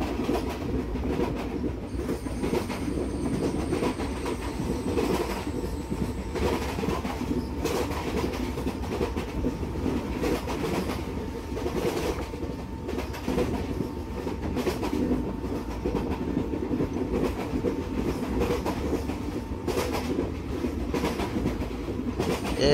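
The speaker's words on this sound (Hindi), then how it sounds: "एक और ट्रेन आ रही है" A superfast express train, an AC Coimbatore service on a Kerala line, passes close by with a loud, continuous rumble and rhythmic wheel clatter that holds steady throughout, with no voices.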